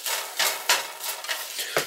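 An egg being pushed around a hot pan with a utensil, giving quick scraping and tapping strokes over a faint sizzle, close by with no talking.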